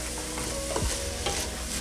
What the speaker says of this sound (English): Once that's done, you give it a stir